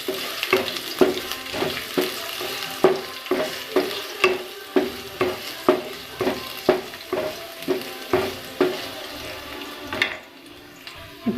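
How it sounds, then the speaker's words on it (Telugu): Bottle gourd pieces frying in oil in a pan while a spatula stirs them, a steady sizzle broken by regular scraping strokes about once a second, close and clear, easing toward the end. "బాగా వేయించుకోవాలండి"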